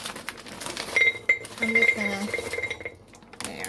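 Hard frozen meatballs clatter and clink into a ceramic crockpot in quick bursts, with a ringing tone and light handling noise between drops.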